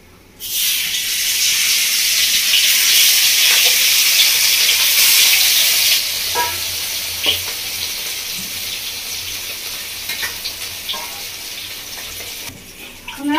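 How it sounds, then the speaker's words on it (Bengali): Kalbasu fish pieces frying in hot oil give a loud, continuous sizzling hiss that eases after a few seconds, with scattered pops and crackles throughout. "বাকি যে মাছটা আছে এটাও ভেজে নেব।"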